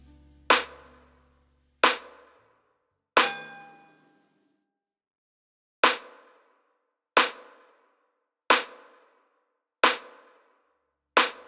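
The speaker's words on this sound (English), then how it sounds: "Let's move on to the snare, which sounds like this, soloed." Eight sharp, bright snare drum hits with short decays, spaced about a second or more apart with one longer gap, played alone with nothing else sounding.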